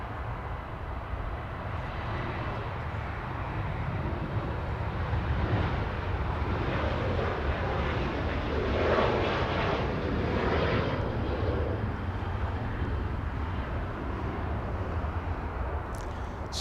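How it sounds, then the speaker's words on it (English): A Southwest Airlines jet departs Los Angeles International for Oakland, its engines giving a sustained rushing roar that swells slightly near the middle and stays fairly distant and even. "Southwest departure out of there."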